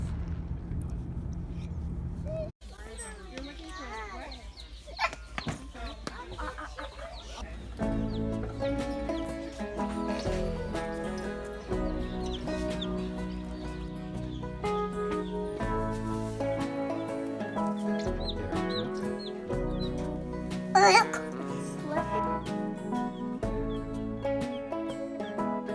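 A broody hen clucks with soft, repeated clucks and murmurs alongside chirping sounds over a long stretch, close by, with some low background noise.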